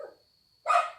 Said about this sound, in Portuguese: pelo incômodo dos cachorros que faz barulho nesta noite para atrapalhar nossa live